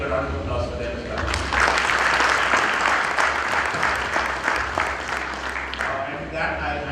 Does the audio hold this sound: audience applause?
yes